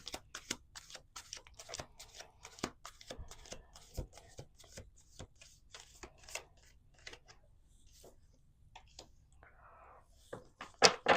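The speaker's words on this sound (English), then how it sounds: "Let's do 2 more shuffles." Tarot cards shuffled on a table: quick crisp riffling clicks in uneven bursts, soft and close, with quiet pauses between.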